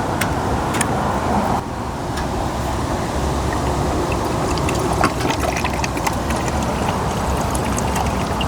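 Engine and transmission flush pours into a Ford Transit van, a steady liquid glug and trickle under a constant background rumble, with faint clicks and knocks along the way.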